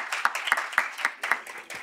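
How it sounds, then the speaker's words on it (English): Brief audience applause for a panel at a global philanthropy discussion, a sparse run of distinct claps in a fairly quick rhythm, with no talking. "I want just one more round of applause for a wonderful panel"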